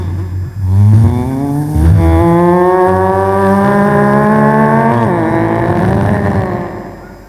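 A voice imitates a sports car engine on a comedy stage, a loud sustained buzzing rev that climbs in pitch, dips briefly and then holds a long whining drone before fading.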